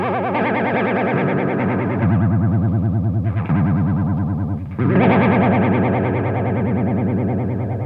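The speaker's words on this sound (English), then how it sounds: "There, everything maxed on the chorus front." Electric guitar through a chorus pedal with every setting maxed, sustained chords carrying a deep, fast wobbling shimmer, played loud and alone with a brief dip between chords.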